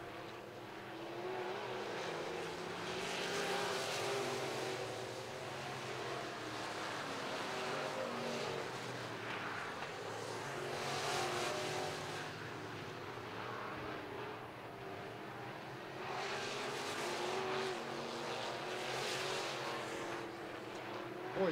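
Sport mod race cars circling a dirt oval at RPM Speedway during a qualifier, a continuous distant engine roar swelling and fading as the pack passes, with a faint announcer voice beneath.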